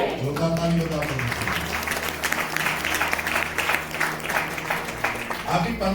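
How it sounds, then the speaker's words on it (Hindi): A church congregation claps loudly and continuously for several seconds, a dense steady wall of applause with music playing underneath. "जोरदार ताली बजा दो।"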